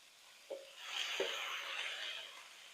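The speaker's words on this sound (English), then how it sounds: "Y'all can hear it sizzling." Diced cabbage sizzles softly as it sautés in a pan, a faint steady hiss with a couple of small clicks near the start.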